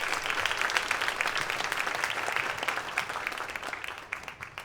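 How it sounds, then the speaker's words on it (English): An audience at a harm reduction panel applauds the panelists with full, sustained clapping that stays loud and dense before thinning slightly toward the end, with no talk over it. "If y'all want to applaud for these folks one more time"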